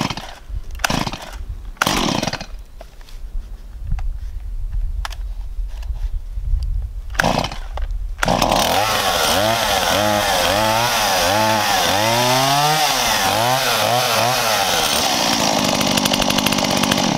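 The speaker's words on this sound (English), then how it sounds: "So let's go through the process of cranking it." A Stihl chainsaw left unused for several days is cold-started: several short pull-start bursts, then the engine catches and runs loudly, revving up and down in a rising and falling whine.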